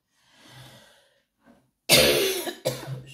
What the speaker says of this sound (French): C'est gênant pour vous quand je tousse